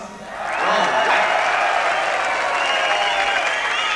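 An audience breaks into sustained applause, building quickly and holding steady as a dense wash of clapping.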